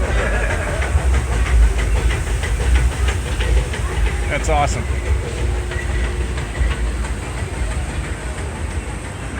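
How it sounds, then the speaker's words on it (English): Disneyland steam train rolling past nearby, a loud continuous rumble with rhythmic clickety-clack and steam hiss, one brief whistle-like tone midway; a person speaks briefly over it. "here comes the train"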